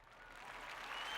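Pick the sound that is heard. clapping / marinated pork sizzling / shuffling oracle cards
clapping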